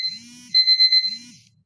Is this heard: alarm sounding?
yes